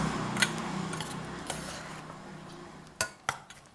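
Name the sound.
mixing Thai beef salad ingredients with fish sauce and lime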